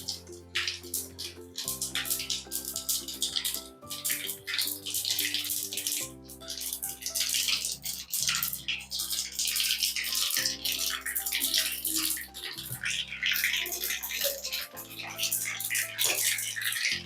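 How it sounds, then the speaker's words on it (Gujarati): Mustard seeds crackle and spatter in hot oil while a Surati sev khamani tempering is being made, a continuous dense sizzle with sharp pops that plays under steady background music. "આપણી રાઈ તતડી ગઈ છે."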